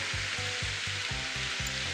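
Warm spring water bubbles and gushes at its source at Ikogosi Warm Springs in Ekiti, Nigeria, giving a steady, close hiss over a soft, regular low pulsing.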